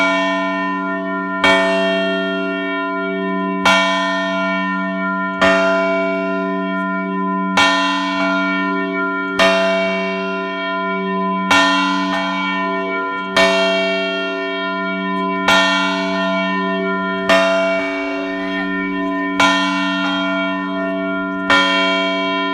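Church bell at Nimmitabel striking twelve times, with evenly spaced loud clangs whose long ringing tones sustain and overlap between strikes, heard alone and fairly close.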